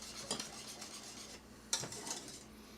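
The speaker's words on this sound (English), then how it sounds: "Keep stirring it for a little bit just to make sure there's no clumps" A utensil stirs thickening bechamel sauce in a pan over the heat, making soft scraping strokes with two sharper clinks against the pan's side, quiet and close, with no talking.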